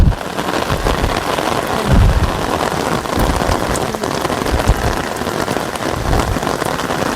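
Heavy monsoon rain pours down loudly and steadily on a mountain pilgrimage trail near Haridwar, drumming hard on a surface throughout.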